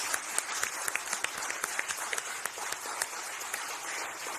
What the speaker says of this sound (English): Let's all give a warm round of applause to Landon.